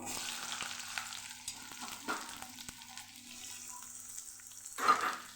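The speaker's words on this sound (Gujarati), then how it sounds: "ડુંગળીને પણ સરસ સાતડી લેવાની છે" Onions fry in hot oil with garlic cloves, a steady, close sizzle, broken by the scrape and knock of a spoon stirring the pan.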